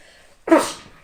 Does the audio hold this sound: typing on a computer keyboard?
no